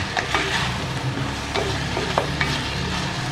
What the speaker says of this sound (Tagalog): halo haloin lang yan para kumatas yan